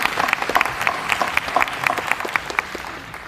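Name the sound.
round of applause for people in uniform at graduation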